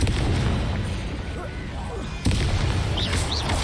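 Confringo fire spell blasts cast in the Hogwarts Legacy video game, a dense booming burst of game combat noise that jumps louder partway through, with a voice speaking over it.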